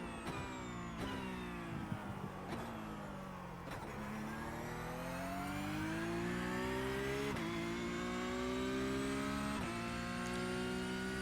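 Porsche Cup race car engine in the iRacing simulator, revving hard and climbing in pitch through repeated upshifts, each marked by a sharp break before it pulls again, loud and steady with no talk.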